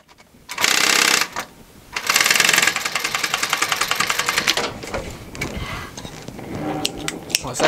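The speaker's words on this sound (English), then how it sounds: "I'm just sewing a fly across," A sewing machine stitches a fly onto upholstery fabric while a high back chair is being reupholstered, running in rapid mechanical bursts with short pauses and handling noise between runs.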